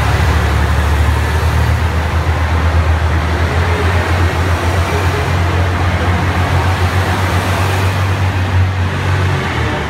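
A Hamakaze 3 diesel limited express train departs a station with a loud, continuous low rumble of its engine and a steady wash of broadband noise throughout, close by and with no speech.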